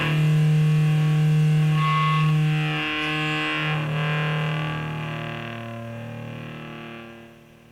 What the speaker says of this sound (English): Feedback into distortion is insane.